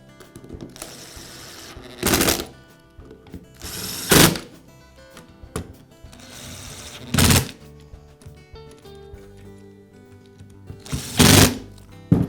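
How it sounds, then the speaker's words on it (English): Screws are driven into the housing of a DeWalt impact driver during repair, with four short loud bursts of a powered screwdriver whirring close by, separated by quieter handling and clicks, no talking. "Once everything is aligned, I'll secure a few of the screws."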